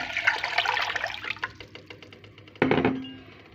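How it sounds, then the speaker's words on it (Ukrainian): About 100 grams of cold water poured into a saucepan to cook wild forest mushrooms for an aspic, a steady splashing pour that ends and is followed by a sharper burst of water near the end. "В кастрюльку я виливаю холодну воду 100 грамів."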